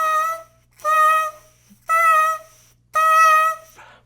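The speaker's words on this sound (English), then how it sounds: "There will be a space in between the sound" A bassoon reed played alone gives four separate buzzy notes at one pitch, each roughly half a second long with clear silences between them, close and fairly loud.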